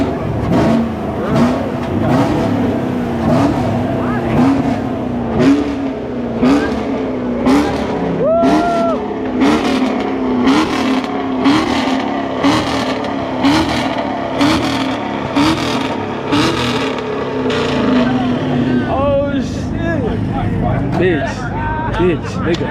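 A BMW F30 engine at a street car meet revs in a rapid series of sharp, loud bursts, with pops and crackles between them, while people talk and chatter nearby.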